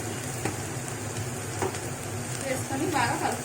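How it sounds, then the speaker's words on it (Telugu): Mixed vegetable curry seasoned with salt and chili stirred and fried in a pan, a steady low sizzle with occasional scraping stir strokes, close and continuous, with no talk. "వేసుకొని బాగా కలుపుకోవాలి. ఒక 5 నిమిషాల పాటు వేయించుకోవాలి."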